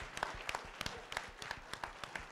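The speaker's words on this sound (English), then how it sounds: "students, give them a round of applause." Scattered applause from a small audience at a student startup pitch competition, sharp individual claps at an uneven rhythm, fairly faint and somewhat distant.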